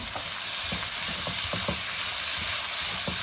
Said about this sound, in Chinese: 接着再把我们切好的葱姜蒜放进来，给它炒一下，炒出香味儿